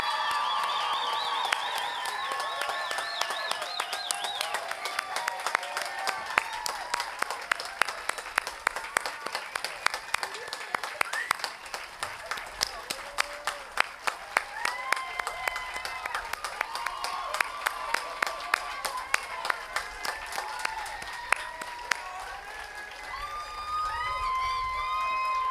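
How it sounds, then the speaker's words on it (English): Sustained applause and cheering from an audience at a 2025 girls' school graduation ceremony greeting the graduating class, dense clapping with whoops and high shouts throughout, loud and continuous. "Please join me in a round of applause for them."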